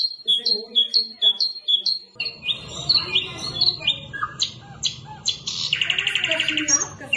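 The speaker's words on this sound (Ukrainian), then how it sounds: "Ось зараз дуже гарно співають синички в березні." Great tits sing in March, repeated bright two-note phrases at first, then denser chirps and twittering from several birds, close and clear, with a faint low murmur beneath.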